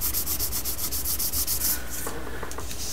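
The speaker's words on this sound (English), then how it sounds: "we'll take the green pad again and we'll just smooth that down" A green abrasive pad rubs over a filled seam on a model passenger train yard layout, giving a steady, rhythmic scrubbing hiss in quick back-and-forth strokes that soften near the end.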